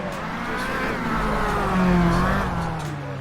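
Lampadati Corsita sports car, modeled on a Maserati MC20, accelerates in a video game, its engine note rising steadily and loud throughout with a swelling peak midway, no talking.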